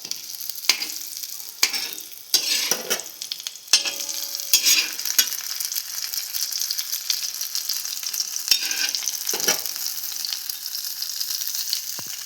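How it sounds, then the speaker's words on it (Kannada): Brinjal frying on a tava, a bright crackling sizzle punctuated by repeated scraping and stirring strokes in an irregular rhythm, close and fairly loud, with nobody speaking. "ಇದು ಇನ್ನೊಂದು 2 ನಿಮಿಷ ಕಾಲ ಚೆನ್ನಾಗಿ ಫ್ರೈ ಮಾಡ್ಕೊಳ್ಳೋಣ"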